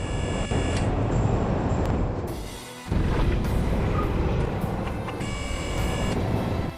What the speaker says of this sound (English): we've got a train following us on the other tracks